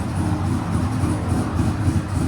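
Cammed Chevy/GMC 5.3L V8 with headers idles in a steady, low rumbling drone, close and fairly loud with no voices.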